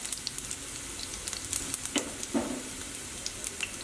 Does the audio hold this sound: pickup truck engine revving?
no